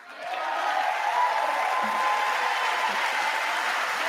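Steady, even applause fills the House chamber during the State of the Union address, holding at a constant moderate level for several seconds without pauses.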